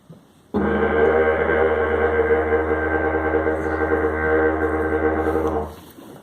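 A dense, buzzing didgeridoo drone with a rough vocal growl layered in, held steady and loud for about five seconds.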